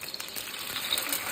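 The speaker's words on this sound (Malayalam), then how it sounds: "2 മുട്ട ചൂടായ എണ്ണയിലേക്ക് ഒഴിച്ചതിന് ശേഷം" Two eggs poured into hot oil for Maggi puttu sizzle and hiss steadily, a bright, continuous frying crackle held close and even throughout, with no voices.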